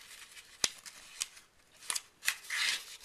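Origami paper being folded for a balloon model: a few sharp creasing snaps and crinkles, scattered and irregular, with a rustling swish near the end, close and fairly quiet, no voices.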